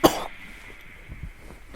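A single sharp cough right at the start, close and loud, followed by a faint room hush and soft low thumps.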